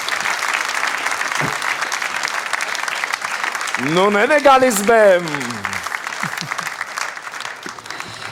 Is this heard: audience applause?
yes